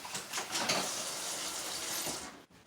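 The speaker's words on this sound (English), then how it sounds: "Let me rinse this out real quick." A container being rinsed under a running tap while mixing fluid acrylic paint, a steady close splash of water lasting a couple of seconds before cutting off.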